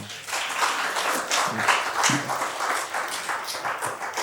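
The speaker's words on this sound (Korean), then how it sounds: "박수 한번 해주세요" A church congregation gives a round of applause, many hands clapping steadily for several seconds in a reverberant hall, with faint voices mixed in.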